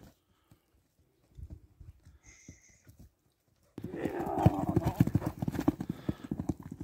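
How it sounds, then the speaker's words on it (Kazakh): A horse being ridden and tested for speed, its hooves clip-clopping loudly in a fast, steady rhythm that suddenly starts after quieter scattered hoofbeats, with a brief whinny-like tone early on. "Айдай бир чабып дагы көрөлү. Атты сынайлы туугандар."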